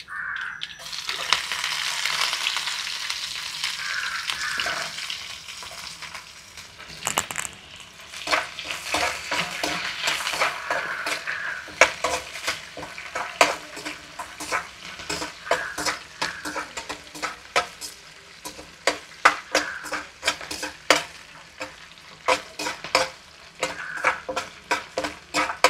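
Chana dal and onions sizzling and frying in a pan, with a steady hiss, repeated scraping clicks of stirring throughout, and faint birds calling in the background.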